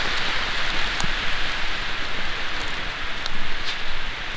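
Heavy rain pours down steadily in a dense, unbroken hiss, with occasional louder drops spattering close by.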